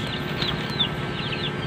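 Young chicks on a backyard farm peep in soft, high chirps that repeat at irregular intervals, faint over a steady low background hum.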